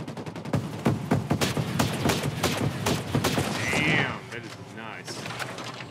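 Rapid bursts of automatic gunfire in the video game Ghost Recon Breakpoint, dense and loud shot after shot, with players talking over the firing and a brief electronic tone near the end.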